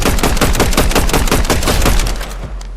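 Rapid automatic gunfire from a shooter video game rattles out in a dense, loud burst for over two seconds, then stops with a few fading echoes.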